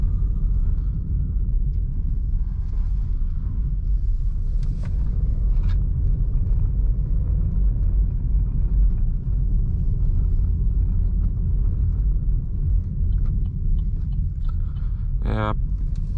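A Chevrolet Onix Plus LTZ car rolls over cobblestone pavement in a small town, giving a steady, continuous low rumble and road drone from inside the cabin, with a brief higher squeak near the end.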